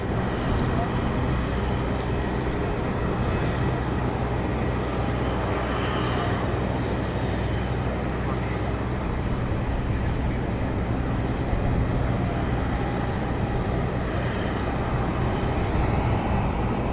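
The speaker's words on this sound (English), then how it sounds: "Air France on the taxi." An Air France airliner taxiing at Zurich Kloten airport gives off a steady, unbroken jet engine drone and rumble, held at an even level for the whole stretch.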